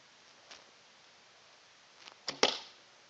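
Arrows loosed from a traditional longbow while kneeling, a faint snap early on followed by two sharp, close twangs and thwacks in quick succession against quiet outdoor background.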